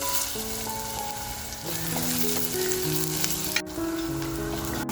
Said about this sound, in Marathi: तर आपलं तेल सुद्धा असं छान असं तापलेलं आहे। खडे मसाले टाकूया अगोदर। लगेचच बघा कांदा टाकते